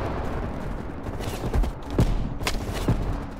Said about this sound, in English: More gunfire.